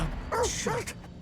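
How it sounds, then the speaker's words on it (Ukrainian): Dog in the horror video game The Dark Pictures Anthology: The Devil in Me giving two short yelping barks, close and clear, over a low background hum. "А, так це пес був."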